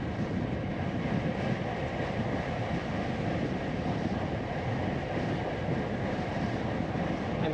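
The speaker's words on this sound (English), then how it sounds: "I'm going downhill, but I'm pedaling into the headwind." Strong headwind roaring over a cyclist's onboard camera while riding downhill from Alicante toward Busot, a loud continuous buffeting rumble and hiss filling the whole stretch, with no talk.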